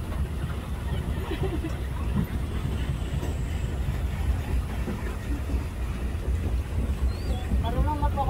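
A steady low boat motor rumble drones throughout on the Bitan river, with rushing wind and water noise, while faint voices and chatter come and go on top.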